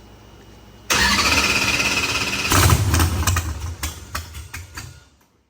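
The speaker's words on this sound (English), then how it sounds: "Bob, hop in there, fire this thing up" Car engine cranking and firing up on a dyno, catching abruptly into a loud rough idle with a few throttle blips before cutting off, close and without talk.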